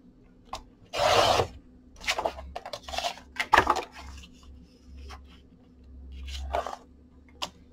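Paper being cut with a trimmer for a handmade album template, a loud slicing swish followed by scattered clicks, taps and rustles of paper handling close by.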